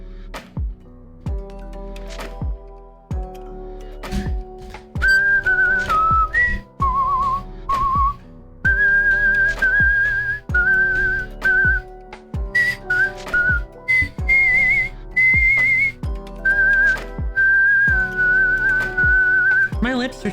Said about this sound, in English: Barely whistle.